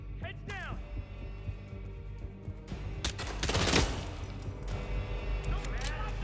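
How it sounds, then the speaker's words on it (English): Video game gunfire on a Twitch livestream: heavy bursts of shots and booming reports that swell near the middle, with players talking over the shooting. "Someone is shooting a weapon!"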